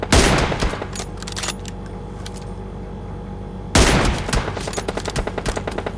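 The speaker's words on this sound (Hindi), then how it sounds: "अब 2-3 गोली भी मार दी M4 की" An M4 rifle fires in PUBG Mobile, bursts of rapid shots crackling close and loud, a long volley followed by a pause then a second rattling burst of gunfire.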